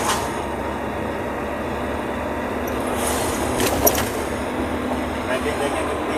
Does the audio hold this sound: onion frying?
no